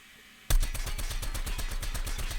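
Man-O-War rifle in a video game firing thermite rounds at a target dummy, a sudden loud burst of rapid automatic shots in a steady, even rhythm that continues without pause.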